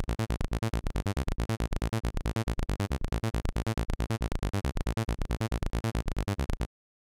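Synthesizer bass step sequence playing a fast, evenly pulsed pattern of short repeated notes, steady rhythm, loud and alone, ending abruptly.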